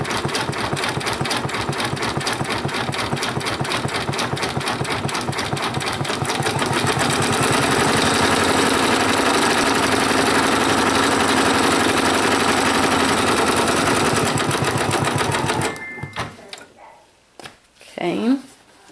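An embroidery machine stitching a rain jacket hood, a steady loud rapid mechanical chatter running continuously for about fifteen seconds before stopping abruptly, followed by a few faint handling sounds.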